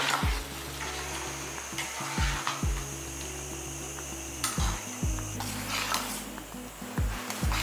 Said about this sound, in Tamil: நல்லா கொதிக்கட்டும் நல்லா கரையிற அளவுக்கு